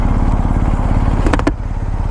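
A BMW R1250GS motorcycle engine idles with a steady, throbbing rumble close by, with a few brief clicks near the end.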